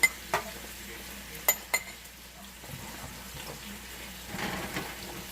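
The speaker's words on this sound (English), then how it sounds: "As you can see, they're starting to saute up a little bit" Mushrooms sautéing in a pan, a quiet sizzle broken by a few sharp clinks of utensils against the pan and a soft scrape of stirring near the end.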